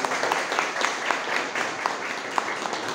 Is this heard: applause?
yes